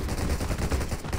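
Rapid bursts of gunfire crackle in the online shooter Garena Undawn during a zombie squad battle, several quick shots packed into about a second, fairly loud and without talk.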